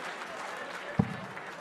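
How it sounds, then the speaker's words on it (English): A darts crowd at the WDF World Championship gives a steady, moderate ripple of applause, a spread wash of clapping from the hall with one sharp thump near the middle. "Nice ripple of applause, though, for the attempt."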